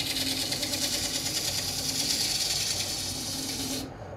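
A file rasps steadily across a turned wooden cup on a Japanese-style lathe, taking off a burr. The sound is close and loud, a continuous harsh scraping that stops abruptly near the end.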